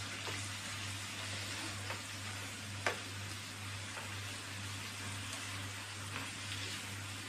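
Cold minced meat for moussaka sizzles steadily in a hot pan, a continuous close crackling hiss with a few sharper pops and stirring clicks, under a low constant hum and with no talking.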